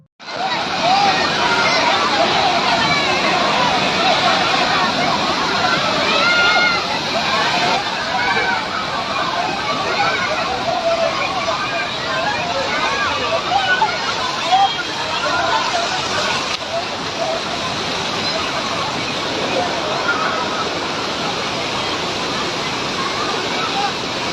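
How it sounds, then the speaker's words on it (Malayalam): Rain-swollen flash flood roaring down Kuttalam waterfall, a loud, continuous broadband rush of water with a crowd's indistinct hubbub mixed in throughout. "അപ്രതീക്ഷിതമായി വെള്ളച്ചാട്ടത്തിലേക്ക് മഴയെ തുടർന്ന് വെള്ളം കുത്തിയൊലിച്ചു വരുന്നൊരവസ്ഥ"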